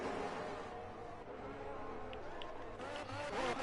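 Racing cars roar past in a racing video game, a steady dense engine drone with rising and falling whines of passing cars, continuous and loud.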